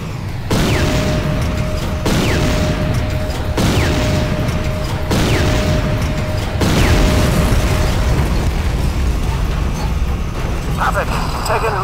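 Missile explosions in the video game C&C Renegade: a series of loud, heavy booms arriving roughly every one and a half seconds, each with a rumbling tail and a faint steady tone between blasts.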